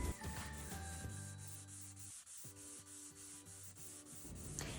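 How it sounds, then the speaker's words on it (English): Sandpaper rubs back and forth over a gel-stained wooden dining table, close and rhythmic scratchy strokes with a brief pause midway. "once you sand over some of that stain to lighten it up a little bit"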